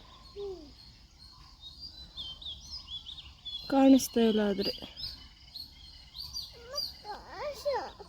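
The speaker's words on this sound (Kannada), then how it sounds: "ನವಿಲು ಬರೀ ಕೂಗ್ತೈತೆ ಕೂಗೋ ಸೌಂಡ್ ಮಾತ್ರ ಕೇಳಿಸ್ತೈತೆ" Faint, distant peacock cries sound at the start and again near the end, with a short burst of nearby talking in between, over quiet outdoor ambience.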